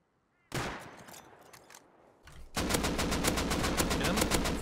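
Gunfire in the survival video game Rust opens with a sharp burst of shots, fades briefly, then turns into a sustained loud automatic spray of rapid, evenly spaced rounds.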